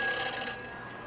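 A telephone ringing in the Back to the Future video game, a bright electronic ring with steady tones that fade slightly over about a second, heard alone without talk.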